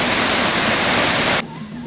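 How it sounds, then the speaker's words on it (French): Waterfalls and rapids in Haut-Lomami, a loud broad rushing roar of falling water that cuts off sharply near the end, leaving a quieter background where a voice seems faintly present. "Les chutes, les rapides et les cascades sont nombreux."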